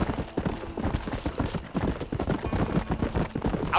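Horse hooves clip-clop in steady, even rhythm in the Red Dead Redemption video game, close and continuous, with faint ambient sound underneath.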